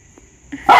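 A German shepherd gives a single sharp bark right at the end after a faint quiet lead-in. It sounds close and loud and is heard alone.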